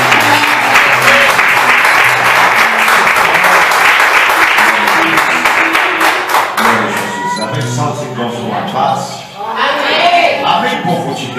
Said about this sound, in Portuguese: Vamos receber o pastor Antônio com as palmas bem fortes.